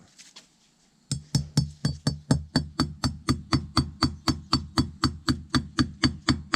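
A hammer taps a bearing race into a 1967 Chevy II front brake in a steady, even rhythm, about three sharp ringing metal strikes per second, close and loud after a quiet start.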